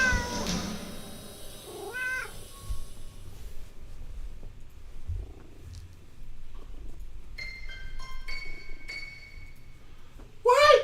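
In the video game Crimson Gray, a cat gives a short rising meow early on, followed by soft game ambience, faint chimes and a brief louder sound at the end, with no talking.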